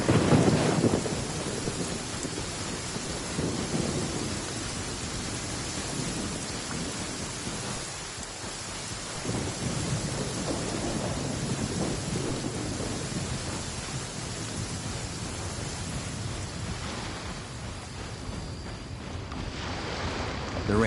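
Steady rain with distant rolling thunder in the video game Genshin Impact, a dense wash of rainfall filling the scene throughout with low rumbles underneath and no talking.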